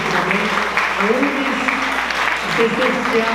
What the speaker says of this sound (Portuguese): Salve de palmas para a mesa,